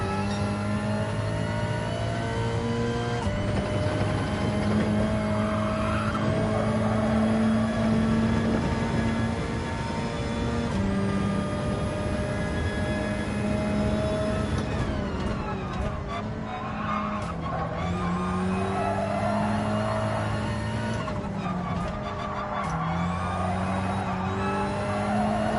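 A race car engine in the video game Gran Turismo 7 revs and shifts through gears, with tire squeals and skidding as it corners, loud and continuous for the whole stretch.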